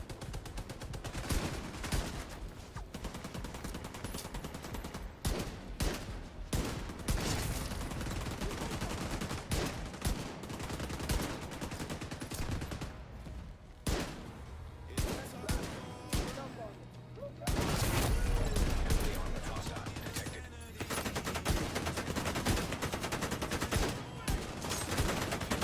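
Pistol gunfire in The Division, sharp single shots cracking in an irregular rhythm through a noisy combat scene, loud and close, with a voice occasionally heard beneath.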